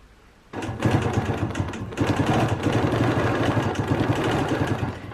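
A sewing machine runs steadily at quilting speed, stitching wavy lines on a Penguin Parade quilt guided by a ruler and ruler foot; the close, even motor whir with rapid needle clatter starts abruptly and continues without pause.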